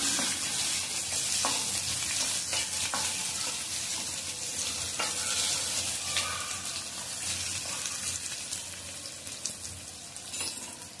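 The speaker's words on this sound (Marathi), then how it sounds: "कांदा छान नरम करून घ्यायचं. गॅसची फ्लेम मोठी ठेवली आपण." Onion fries in a pan over a high gas flame, with a dense, steady sizzle that runs throughout and occasional stirring scrapes, heard close with no voices.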